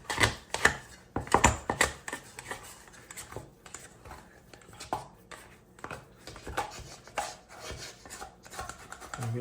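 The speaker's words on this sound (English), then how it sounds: "I'm going to go ahead and scrape it down," Sourdough dough after autolyse being scraped from a mixing bowl with a scraper, giving a run of close rasping, scuffing strokes in irregular bursts, louder at the start and quieter later, with no talking.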